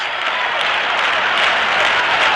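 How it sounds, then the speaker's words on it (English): The crowd at RFK Stadium keeps up a sustained, dense wash of applause at a Yankees versus Senators baseball game in 1971, loud and steady across the whole stretch. "The crowd starts the rhythmic applause."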